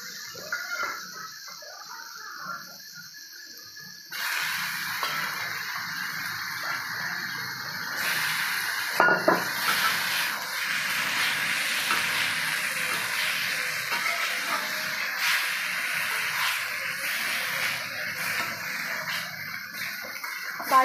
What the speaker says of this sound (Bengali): এবার দিয়ে দেবো ডালটাকে, একটুখানি ডালটা দিয়ে নেড়ে নেবো।